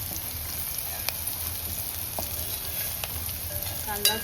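Chopped onion sautéing in a pan for dal tadka, a steady close sizzle and hiss with a few faint stirring clicks, no voices.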